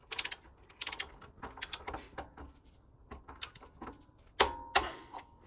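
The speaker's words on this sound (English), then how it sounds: "you take your special service tool with the 3 prongs on the torque wrench and we're going to do up this lock nut to 43 foot-pounds" A torque wrench with a three-pronged special service tool clicks and ratchets in uneven bursts while tightening a rear wheel bearing lock nut on a Toyota Landcruiser 70, 80 or 105 Series, close and crisp, with two sharper clicks near the end.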